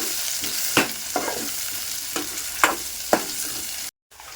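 Onions fry in a pan for an egg curry, giving a steady close sizzle broken by several sharp scraping stirs. The sound cuts out briefly near the end.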